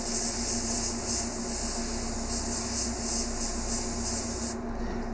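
An airbrush sprays paint onto a portrait of Martin Luther King Jr., giving a steady, close, loud hiss that runs unbroken for about four and a half seconds and then cuts off.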